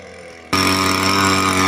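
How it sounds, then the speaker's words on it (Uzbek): An off-road vehicle's engine suddenly roars up to a loud, steady, strained drone as it climbs a mountain, close and continuous after a quiet start. "Yo'l tanlamas mashinamiz toqqacha chiqib keldi."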